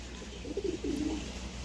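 A pigeon, one of a group of fancy breed birds offered for sale, gives a soft, fairly faint coo in two short throaty phrases over a constant low background hum.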